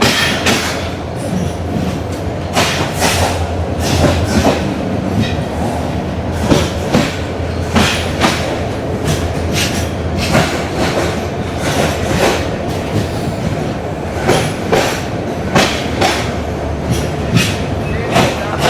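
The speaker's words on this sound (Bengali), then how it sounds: "এই মুহূর্তে আমরা আছি ঢাকার বিমানবন্দর রেল স্টেশন" A train at Dhaka Airport railway station platform at night, steady rumbling with repeated clickety-clack wheel beats over rails, loud and close, continuous throughout without talk.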